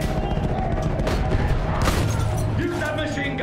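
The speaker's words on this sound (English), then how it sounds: "Use that machine gun!" Machine gun fire rattles amid dense, continuous battle noise in the video game Battlefield, with steady gunfire and explosions filling the scene and possible shouted voices mixed in.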